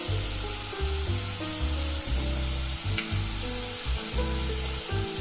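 Turmeric, chili and coriander powders sautéing in a pan for a coconut-based dried fish and raw banana curry, a steady sizzle beneath a loud, pulsing low hum that rises and drops repeatedly.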